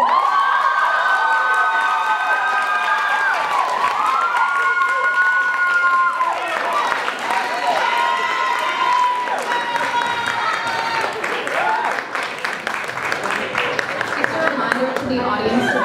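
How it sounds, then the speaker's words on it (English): Audience at a 2015 ASUC student election forum for external affairs vice president claps and cheers steadily throughout, a dense sustained wash of applause and shouting with voices mixed in. "The audience to please try to hold your applause until the end"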